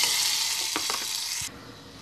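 A paste of candlenuts and chili sizzles in hot oil, a bright close hiss with a few stirring scrapes before the frying noise abruptly quiets.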